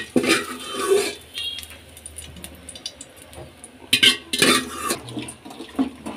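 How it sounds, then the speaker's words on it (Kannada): Hot tempering of mustard seeds, curry leaves and onion poured into a green pigeon pea bassaru, giving a sizzle and clinking of cookware, with a couple of louder bursts of splashing and metal contact around the middle and near the end. "ಈಗ ಒಗ್ಗರಣೆ ಹಾಕ್ಕೊಂಡಿರೋದನ್ನ ಬಸ್ಸಾರಿಗೆ ಹಾಕ್ಕೊಳ್ಳೋಣ"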